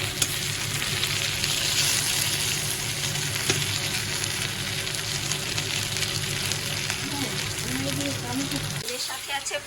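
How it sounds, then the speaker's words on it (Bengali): Food sizzles steadily in hot oil, close and continuous, with faint voices near the end as the frying noise drops off. "ভাজা হচ্ছে"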